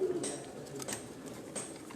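Breeder pigeons on a rooftop, a soft low cooing near the start over a steady outdoor hiss, with a couple of faint higher chirps later.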